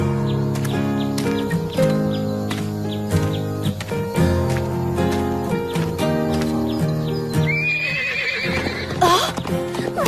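A horse whinnies loudly near the end over a steady musical backdrop, with faint clip-clop hooves and a bird chirp.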